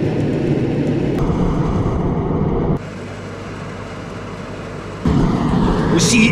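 Loud 15-kilowatt heater running aboard a Rhea 900 boat, a steady dense roar that drops in level partway through, then surges back up.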